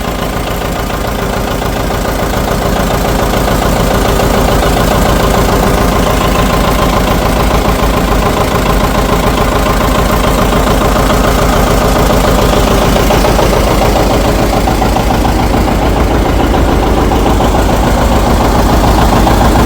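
A John Deere 730 tractor engine runs steadily at idle, a loud, continuous low throb with a knocking, vibrating texture that holds unchanged throughout.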